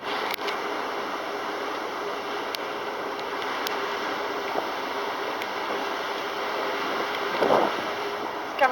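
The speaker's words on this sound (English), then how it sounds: "Wow, we're making some waves underneath here." Sea waves churned up beneath the Interislander ferry Aratere on the crossing from Wellington to Picton, a soft, steady wash of water under heavy wind noise on the microphone, with a brief surge near the end.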